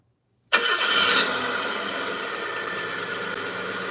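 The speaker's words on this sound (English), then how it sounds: "Keep it idling, the V8." After a moment of silence a V8 engine cranks and fires up with a sharp surge, then settles into a steady, rumbling idle.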